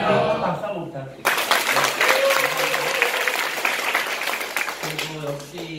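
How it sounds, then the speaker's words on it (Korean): An audience at a business sponsor meeting breaks into sustained applause, loud and dense for several seconds, after a brief stretch of talk at the start, with a voice resuming as the clapping fades at the end. "박수 한번 부탁드립니다"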